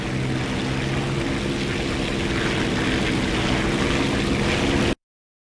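Propeller aircraft engine droning loudly and steadily at raised throttle in War Thunder, a continuous close roar with a faint rising tone, cutting off abruptly near the end.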